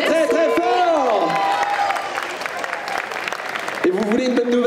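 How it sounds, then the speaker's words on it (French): An audience applauds at a Disney concert at a geek convention, a steady wash of clapping and crowd noise running under a loud voice talking into the mic at the start and end. "On peut l'applaudir quand même très fort."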